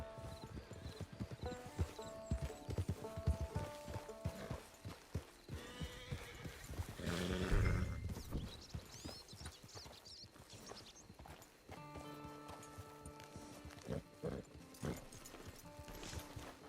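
Horse hooves in Red Dead Redemption 2 clip-clop in a rhythmic trot, punctuated by a loud neigh midway, with faint music-like tones in the background.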